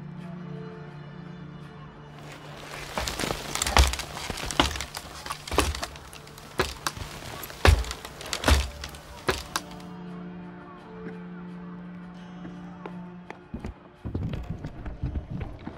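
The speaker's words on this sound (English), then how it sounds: "Argonus places the ladder against the rocky cliff before driving the legs into the wet sand." In a video game, a ladder is set against a rocky cliff and its legs are driven into wet sand: a run of sharp wooden knocks and thuds in an irregular cluster, then quieter scraping and a final thump.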